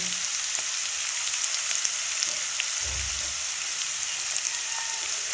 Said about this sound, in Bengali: আদাটি একটু ভালোভাবে নেড়ে ভেজে নেব।